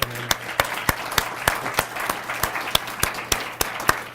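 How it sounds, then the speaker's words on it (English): An audience at a magazine launch applauds the editors and production staff. A soft wash of clapping runs under a series of sharp, evenly spaced louder claps close by, as if one person is beating a steady rhythm. "if we could just have one round of applause for all the editors and editing assistants and production and design"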